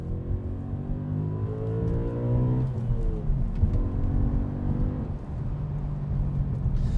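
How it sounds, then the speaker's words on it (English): An Audi RS4 B7 engine, paired with a 6-speed manual transmission, hums at moderate volume while its pitch climbs in smooth revving sweeps, drops off, then rises again. "this is a pretty cool, fun engine, paired with a nice 6-speed manual transmission."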